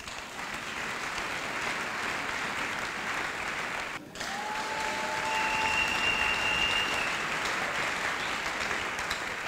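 A church congregation applauds loudly and steadily, a dense wash of clapping that briefly dips, then swells again, with a sustained tone from an instrument or voice rising over it.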